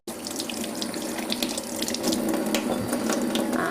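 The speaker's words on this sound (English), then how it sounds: "Go, wash your cucumber" A cucumber is rinsed under a steady, loud stream from a kitchen tap filling a sink, with water splashing continuously throughout at close range.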